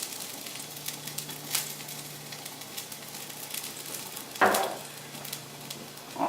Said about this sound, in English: I'm going to saute a little bit of garlic.